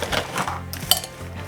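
Fork pressing and scraping through freeze-dried nacho chunks in a bowl, giving a few close, dry crunches and light clinks of metal against the dish.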